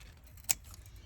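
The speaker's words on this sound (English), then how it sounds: "I keep trimming it back like this." A single crisp snip of pruners cutting back a tea rose bush in a garden, one short sharp click against quiet background.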